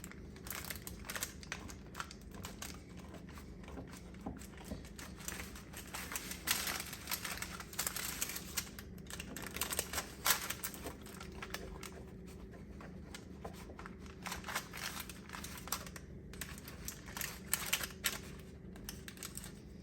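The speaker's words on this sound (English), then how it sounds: "let's cut a piece and give it a taste." Knife cutting through a pan of cinnamon roll blondies, with soft crinkly scraping and tapping noises that continue steadily and close up, with no speech.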